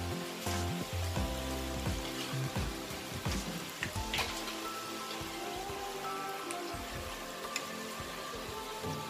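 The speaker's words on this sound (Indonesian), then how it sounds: "Oke, segitu dulu, saya akan goreng." Homemade corn cheetos dough fries in hot oil, giving a dense, steady crackling sizzle that is fairly quiet and runs on without pause.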